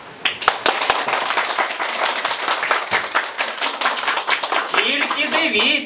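An audience claps in a quick, dense burst of applause that holds steady, with voices rising toward the end as the clapping continues.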